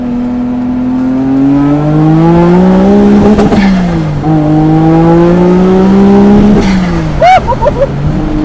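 A Nissan Skyline R32 GTR twin-turbo with a 600 hp setup accelerating hard up an on-ramp, its engine note climbing loudly through the revs with sharp gear-change breaks, then chirping wheelspin near the end.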